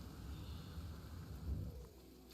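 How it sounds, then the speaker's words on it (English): Rain ambience in the space exploration game No Man's Sky, a steady soft wash of falling rain with low rumbling underneath, faint and continuous. "You hear the rain falling even though it's not raining right now."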